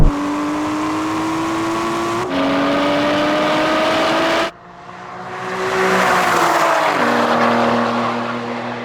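Aston Martin V12 cars in a drag race, engines roaring loud and close with rising revs, an abrupt gear change partway, then a fresh surge of acceleration and a long pull as the engine note climbs and falls.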